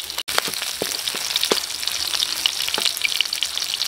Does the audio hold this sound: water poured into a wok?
no